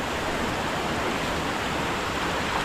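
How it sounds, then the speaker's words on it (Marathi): Water running from one paddy field down into the next in a Konkan village after rain, a continuous even rushing wash like a small stream, steady and close. "ह्या शेतातून खालच्या शेतातून त्याच्या खालच्या शेतात असं पाणी सोडलं जातं"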